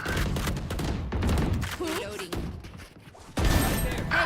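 Gunfire in the video game Valorant comes as rapid bursts of shots and thumps in quick clusters. A short pause is followed by a loud renewed volley, with a faint game voice and chime tones mixed in.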